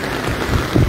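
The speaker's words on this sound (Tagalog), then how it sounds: "patuloy pong tumataas yung tubig dahil nga po malakas yung ulan" Heavy rain falls during flooding near Marikina, a brief, continuous wash of hiss and patter with a low rumbling undertone.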